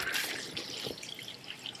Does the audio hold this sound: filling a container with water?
yes